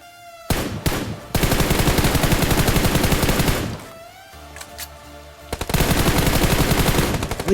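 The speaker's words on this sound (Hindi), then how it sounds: "बंदूक पे जितनी गोलियां सब बरसा दे भाई" Rapid, loud bursts of automatic gunfire in BGMI (Battlegrounds Mobile India) at Pochinki, two long sustained volleys separated by a short lull with scattered thuds.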